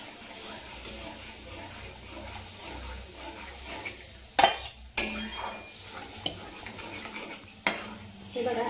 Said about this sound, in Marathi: आता आपण हे पीठ घालून घ्यायचं ह्याच्यात आणि असं हलवायचं लगेच एकसारखं